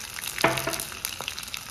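Mustard seeds and crushed green chillies hit hot oil in a tempering for a Konkani breakfast dish, giving a sharp sizzle and a few crackling pops close by that settle into a quieter fry.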